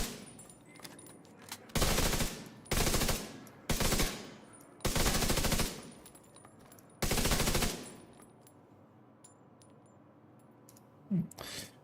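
Automatic gunfire in The Division, aimed at enemy bodies during a PvE farming run, comes as five loud, close bursts of rapid fire with short gaps between them, then quiet game ambience with a faint click near the end.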